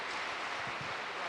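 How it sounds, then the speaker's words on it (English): An audience claps for Sarpanch Sahab at an SLDP 2023 event, giving a dense, steady wash of applause that holds evenly through the short moment. "Please give a big round of applause to Sarpanch Sahab"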